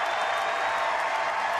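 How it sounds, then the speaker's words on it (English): Steady, distant crowd noise fills a baseball stadium, Rangers Ballpark in Arlington, on a chilly 71-degree evening as the thinned-out remaining fans cheer on pitcher Feliz, a continuous broad roar with no breaks or individual voices standing out. "this vocal crowd that's left cheers on Feliz"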